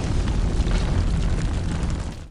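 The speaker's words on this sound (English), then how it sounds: "Bond shoots a canister on the wall, which ignites yet another explosion" A James Bond film explosion: a continuous, heavy roaring blast that fills the whole moment at full loudness and tails off only at the very end.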